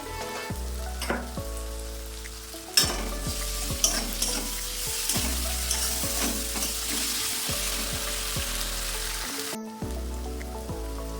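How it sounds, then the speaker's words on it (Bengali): Onion and ginger sizzle and crackle in hot oil while cooking Bengali-style fish kalia, with repeated scraping stirs of a spoon or spatula across the pan. "পেঁয়াজ আদা ভাজা হয়ে এসছে"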